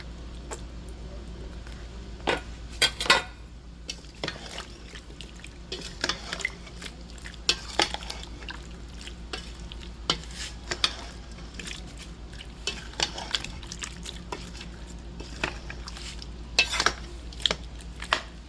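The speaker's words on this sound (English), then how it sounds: "I'm just giving it a little cut up in here, right here with the spoon" A spoon chopping soft baked breadfruit in a dish for a breadfruit pie, a run of irregular clinks and taps against the dish over a low steady hum, close and fairly quiet.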